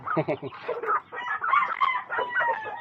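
Three-month-old breeding chickens in a small backyard coop, a close burst of clucking and crowing-like calls from several birds, with a voice faintly under them.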